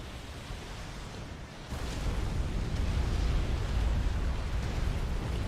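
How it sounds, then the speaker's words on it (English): Rumbling artillery barrage in the Nomads video game, a dense continuous roar of explosions that swells louder after a quieter opening and stays heavy and distorted throughout. "Oh, they're just getting wrecked by this artillery now."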